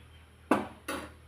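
Radish sambar with tamarind water being stirred in a cooking pot: two short scraping clinks of the spoon against the pot, close and fairly loud, separated by a brief pause.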